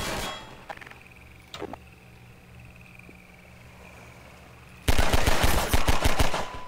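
Rapid automatic gunfire bursts loudly from a Half-Life 2 firefight, preceded by a few isolated shots and scattered clanks over a low engine drone.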